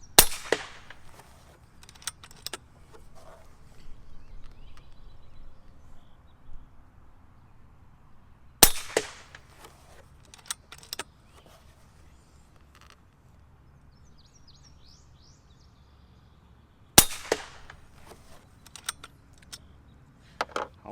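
Three sharp, isolated shots from a bullpup air rifle ring out about eight seconds apart, each a loud crack with a brief metallic ring after it, with quiet handling noise and faint background in between.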